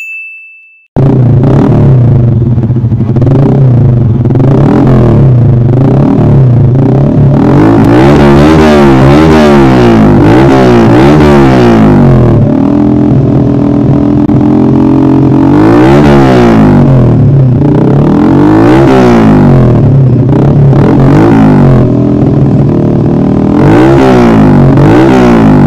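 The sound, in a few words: Yamaha Vega Force FI motorcycle, SC Project exhaust, both silencers removed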